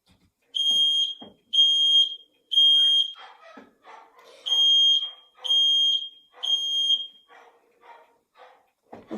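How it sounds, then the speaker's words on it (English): Battery-free smoke alarm under test, six loud, piercing high beeps in two groups of three, each about half a second long, with faint background sounds in the gaps. "Okay, you can hear that's quite a loud noise, and that should wake the whole family."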